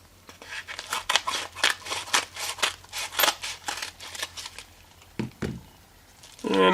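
A small mail package being opened, with a steady run of crisp snipping and tearing strokes in quick rhythm, close and fairly loud, followed by a couple of duller handling thumps.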